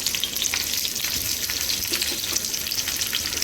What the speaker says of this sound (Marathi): चला आता तलाला सुरुवात करू याच्यात टाकत आहे भेंडी बघा